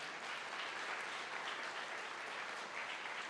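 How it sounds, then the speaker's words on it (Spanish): Steady, dense applause from a church congregation during a sermon, fairly soft and continuous with no break, no voices over it. "Dale un aplauso al Señor si se lo quieres dar."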